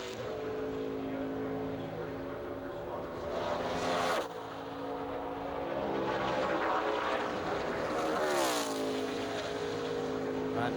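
A NASCAR race car driven by Ryan Newman on a flying qualifying lap at Indianapolis Motor Speedway, its engine roaring steadily and loudly with pitch sweeps as it passes, alone for over ten seconds.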